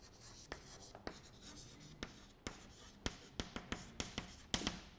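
Chalk or marker strokes on a lecture-hall board, a run of sharp taps and scratches that quicken into a brisk cluster near the end, close and clear with no talking.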